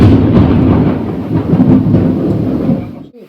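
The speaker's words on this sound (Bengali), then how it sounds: "অস্বাভাবিক বাজ পড়ছে" Loud, close thunder rumbles through a heavy rainstorm, a deep rolling crash that holds for about three seconds before cutting off, with rain hiss beneath it.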